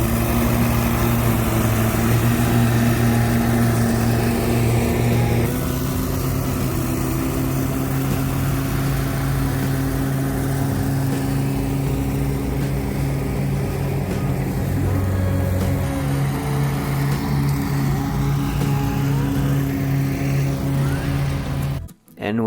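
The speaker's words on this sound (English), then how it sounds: "we're gonna blow out the bed, and we're gonna mulch it with our machines" Engine-driven leaf blower clearing debris out of garden beds during a landscaping job, a loud, steady drone with small shifts in pitch that runs nearly throughout, then cuts off abruptly at the end.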